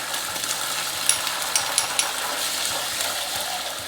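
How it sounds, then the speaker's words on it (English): Ginger and garlic fry in a pan with a steady near sizzle, punctuated by a few small sharp pops, under a faint low hum and with no talking. "then I'm going to add our ginger and our garlic to the pan. Let it cook in there. Popping a little bit."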